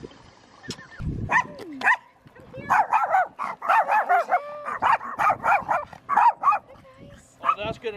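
A dog barks loudly at a reservoir campsite, firing a rapid run of sharp, close barks that start with a few scattered yelps and then come in a dense burst.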